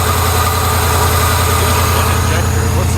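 An old Ford OBS pickup's engine runs roughly on dead injectors, a loud, steady low rumble with a dense mechanical clatter that holds unbroken throughout at close range.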